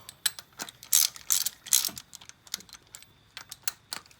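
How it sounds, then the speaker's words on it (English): A ratchet tightens the cam caps on a Mk1 VW engine, giving a series of quick, close clicking bursts with a few louder ratcheting strokes in the middle. "So you could just use a regular ratchet to get them snug down"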